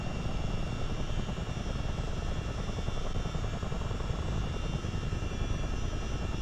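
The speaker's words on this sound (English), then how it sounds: "The Chinook, of course, is one of the fastest helicopters that's ever kind of flown" Chinook CH-47D twin-rotor helicopter in flight in Microsoft Flight Simulator, a steady dense rotor and turbine drone with rapid blade chop, constant and loud throughout with no voices.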